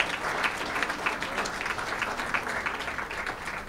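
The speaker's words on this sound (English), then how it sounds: "Let's have a round of applause for South Carolina." Continuous applause from a crowd, steady and moderately loud throughout with no pauses.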